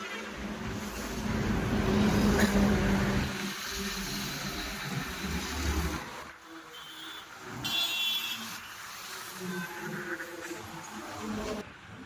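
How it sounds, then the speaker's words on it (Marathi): Busy roadside traffic with many vehicles passing in rural Maharashtra, a continuous heavy engine rumble that swells as a large vehicle goes by early, then lighter passing cars and a brief high whine, no talking. "भरपूर वाहन असतात रोड वरती"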